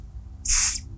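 A person imitates a short deodorant spray burst with the mouth during a sound-making game: a single bright, hissing puff lasting about a third of a second, loud and close, over a low background hum.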